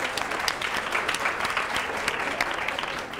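Steady applause from a group at a Catalan TV word-game quiz show, dense and continuous clapping with no talk over it.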